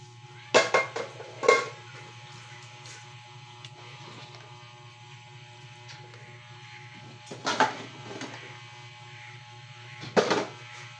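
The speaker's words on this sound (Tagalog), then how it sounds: "Magtatapos lang po ako sa paghugas ng pinggan." Dishes being washed by hand at a home sink, with several short clattering bursts of plates and utensils knocking together, spaced apart over a steady low hum.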